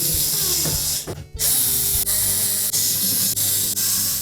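Screws are tightened on the back panel of a GE range oven, giving a steady mechanical ratcheting whir with a few sharp clicks under a constant noisy background.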